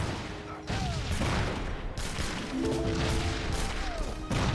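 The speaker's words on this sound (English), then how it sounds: "Grenadiers to get a good volley there onto the Musketeers" Grenadiers loosing a volley onto Musketeers in Age of Empires 3, a dense battle din of crashing, thudding impacts and gunfire-like bursts that runs almost the whole time, loud and continuous.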